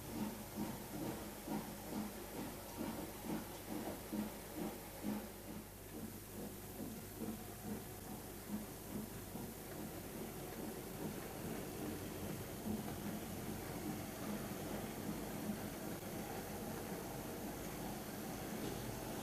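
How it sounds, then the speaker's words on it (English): OO scale model Drummond L11 steam locomotive, number 174, running with a train of vintage coaching stock, giving a continuous steam hiss over a steady rhythmic chuffing and rail rumble throughout. "We start off with the Handsome Drummond L11, number 174, heading off to pick up what is an absolutely beautiful train of vintage stock."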